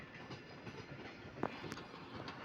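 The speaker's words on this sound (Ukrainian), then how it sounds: "Це як будто експрес-електричка, бо вона біло-жовта" A white-and-yellow electric express commuter train rolls past at moderate distance, a steady broadband rumble of wheels and carriages with a few faint clicks, no voices.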